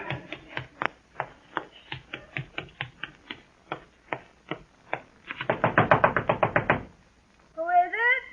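Knocking on a door in a radio drama: a series of sharp, evenly spaced raps, then a faster, louder pounding burst near the end, followed by a brief spoken voice.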